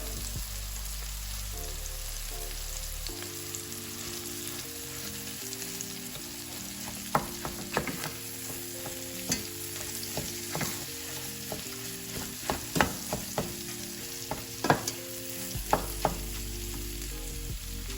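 Plant-based ground meat fries in a pan, a steady, crackling sizzle throughout with repeated sharp clicks and scrapes of stirring in the middle stretch, no speech.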